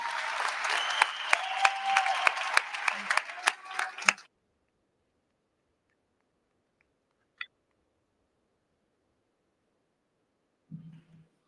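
Audience applause at a Wayne State University law school commencement ceremony: a few seconds of steady clapping that stops abruptly, then near silence broken by a couple of isolated faint knocks.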